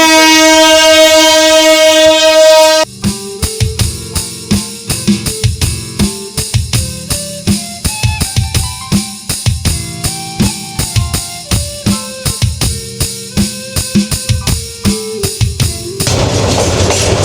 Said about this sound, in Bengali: আর এটা হলো আমাদের ট্রেনের লোকোমোটিভ ইঞ্জিন